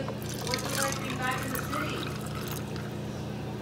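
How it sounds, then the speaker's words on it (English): A homemade ginger-beer cocktail is poured straight into cups, unstrained, giving a steady liquid splash and trickle under nearby chatter. "I'm gonna pour it right in."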